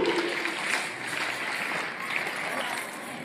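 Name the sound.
audience clapping to welcome a school dance performance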